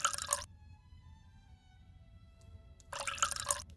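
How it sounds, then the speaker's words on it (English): Short, bright liquid pouring effects from the Water Sort Quest mobile puzzle game play twice, each lasting about half a second, with a quiet gap between them and no talk. "you can pour water on top of the same color"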